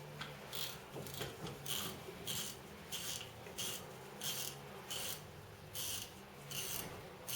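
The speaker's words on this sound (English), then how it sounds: "Hear that click? Sound of a nice working Allivo 4000" An Allivo 4000 fishing reel being tightened gives a steady run of rasping ratchet clicks in regular repeating bursts, close and fairly loud, with no voices.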